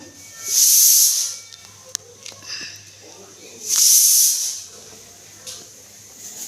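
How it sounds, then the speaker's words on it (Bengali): A pressure cooker boiling potatoes on a kitchen stove lets out two loud, sustained steam hisses about three seconds apart, with quieter clatter and background noise in between. "রান্নাঘরে এই যে আলু প্রেসারে সিদ্ধ হচ্ছে"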